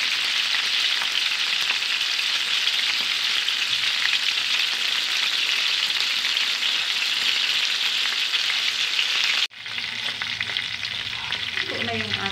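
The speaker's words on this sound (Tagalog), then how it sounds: "iprito na muna natin yung ating panghalong isda" Steady, loud sizzling and crackling of fish frying in hot oil, continuous throughout, briefly cut and resuming with a slightly different tone near the end.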